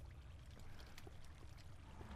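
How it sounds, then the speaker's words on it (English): Steady, faint trickling and pouring of flowing water inside a Minecraft cave, a continuous low wash with no voices over it. "there's like these water noises"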